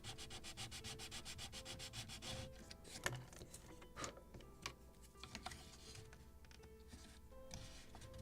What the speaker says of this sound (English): Maybe a little more in this spot and in this spot to sand.